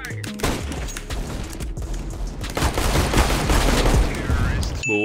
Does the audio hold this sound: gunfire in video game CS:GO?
yes